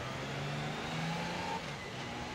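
A motorcycle engine accelerates to about 25 mph, a loud continuous drone that climbs gently in pitch and stays steady for the whole stretch, with no voices.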